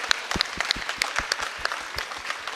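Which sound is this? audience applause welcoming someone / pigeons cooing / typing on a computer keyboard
audience applause welcoming someone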